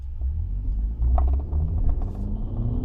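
A 2019 Toyota Camry SE engine pulls away from a stop with the automatic starting off in first gear, giving a steady low rumble that swells as the car gets moving, close and continuous with no talk.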